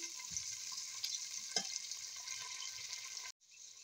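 Vegetables for pansit, with beans among them, fry in a pan with a constant bright sizzle and a couple of stirring knocks, close and steady until it stops abruptly near the end.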